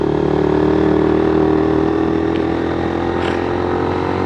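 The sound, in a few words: motorcycle climbing uphill in low gear at high RPM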